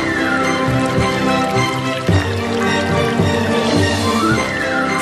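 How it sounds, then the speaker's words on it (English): Holy water pours from an ancient coin-operated dispensing machine, a continuous liquid stream filling a cup with shifting trickles and drips, heard clearly over a musical background. "out came a precisely measured cup full of expensive but holy water"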